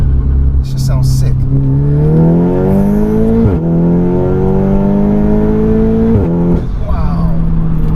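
A stripped-out 406bhp Audi S3 saloon revs hard while driving, its engine note climbing steadily through rising pulls, dropping sharply at gear changes, then climbing again, loud and close inside the cabin with voices talking over it.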